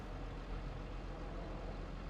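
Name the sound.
tractor engine starting up, Farming Simulator 25 video game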